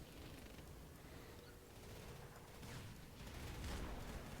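Artillery bombardment rumbles in a Rise of the Reds match, a faint, distant, continuous barrage of overlapping blasts that swells slightly toward the end.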